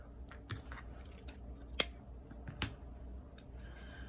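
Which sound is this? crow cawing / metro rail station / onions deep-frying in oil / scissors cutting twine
scissors cutting twine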